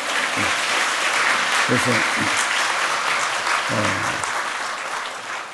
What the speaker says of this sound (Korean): 그래서 박수 한 번 더 칩시다